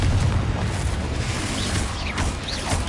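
Bombarda and Confringo spell explosions in Hogwarts Legacy burst out over a dense, noisy game soundscape, with booming impacts and whooshing bursts close together, loud and constant.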